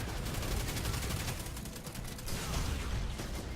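Weapon fire in the PC video game Destiny 2 during the Inverted Spire strike, played as a Warlock, a dense, continuous rattle of rapid shots and mechanical clatter throughout.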